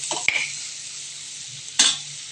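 Kashmiri chili powder frying in hot oil, a steady bright sizzle close up with two short scraping or clattering stirs, one near the start and one near the end, and no talking.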